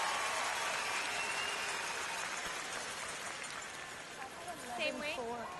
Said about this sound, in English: listen to the crowd as Heather Nedohin makes her way down